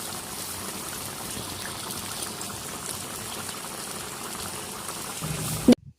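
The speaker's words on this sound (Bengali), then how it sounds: "দেখুন টকবক করে মাংসটা বলক চলে এসছে।" A pot of chicken curry boils steadily, with a continuous bubbling and gurgling simmer as the meat cooks in its gravy, cut off abruptly by a brief knock near the end.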